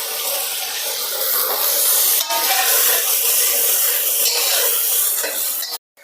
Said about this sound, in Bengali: এখন ভেজে নিচ্ছি গাজর।